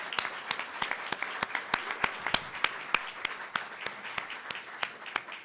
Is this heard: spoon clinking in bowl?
no